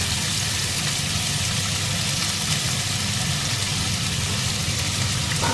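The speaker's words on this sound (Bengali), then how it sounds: "সবই একবারে দিয়েই ভাজবো আমি।" Carrot, beans and capsicum fry together in a pan for fried rice, with a dense, continuous sizzle and a low steady rumble throughout.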